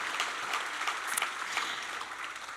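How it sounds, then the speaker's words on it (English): Audience applause at a Chamber of Commerce breakfast event, a steady wash of many hands clapping throughout, fairly distant and even in level with no voices over it. "Yes, let's clap for that."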